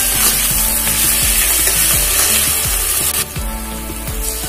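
Ginger sizzles and fries in hot oil in a pan while cooking Bengali katla kalia, a steady loud crackle with low clinking strokes throughout and a brief dip near the end.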